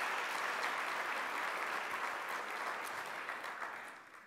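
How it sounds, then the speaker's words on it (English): A conference audience at the NACCE 2018 main-stage session applauds its sponsors with steady, dense clapping that fills the room, then slowly fades toward the end. "let's give our sponsors a great round of applause as we begin"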